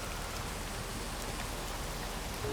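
Steady rain ambience from the video game Space Engineers, a constant even hiss of falling rain that holds at the same level throughout, with no voices over it.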